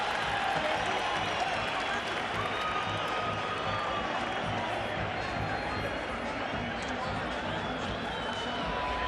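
Arena crowd at a WBC light flyweight boxing bout roars and applauds after round 9, a dense, steady wash of cheering and clapping that fills the whole stretch at moderate loudness.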